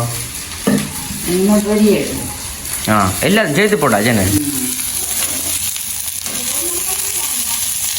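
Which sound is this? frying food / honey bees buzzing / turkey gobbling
frying food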